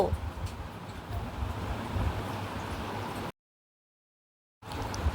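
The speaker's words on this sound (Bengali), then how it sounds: "আকাশে ভালোই মেঘ করেছে কিছুক্ষণ পরেই বৃষ্টি নামবে বলে বোঝাই যাচ্ছে আর হাওয়াও দিচ্ছে" Wind blows outdoors at a village house under a cloudy sky before rain. The microphone picks up a low, steady rumble and gusting noise that cuts out briefly in the middle and then returns.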